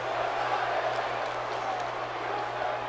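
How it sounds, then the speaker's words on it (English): Arena crowd noise in the WWE 2K18 wrestling video game, set in Philadelphia: a steady, loud roar of cheering spectators with no break. "We've got a raucous crowd here in Philadelphia tonight."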